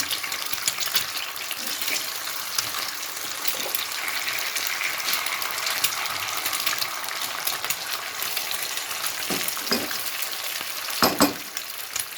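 An egg fries in hot oil in a pan, hissing with a steady, bright sizzle throughout, with a few soft knocks of a utensil near the end.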